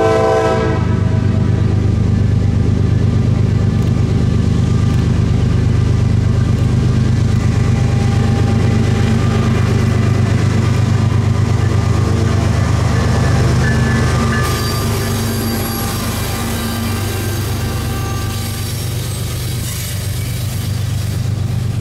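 Manifest freight train on the Kansas City Southern Meridian Subdivision rumbling past close by, a long steady roar of wheels and cars with horn tones, easing slightly near the end.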